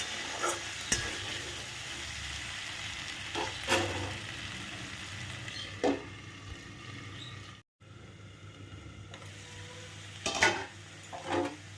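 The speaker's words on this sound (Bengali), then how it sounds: "চাপা ঢাকাটা খুলে আমি কিন্তু নেড়ে দিয়ে যাচ্ছি নইলে তলায় ঝরে যাবে" Potatoes frying in a small amount of oil in a pan are stirred, a steady close sizzle with repeated scraping strokes and spatula clicks, plus a brief dropout midway, no talking.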